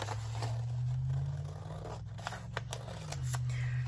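Scissors snip through paper for a present in a few quick, close crisp cuts over a steady low hum.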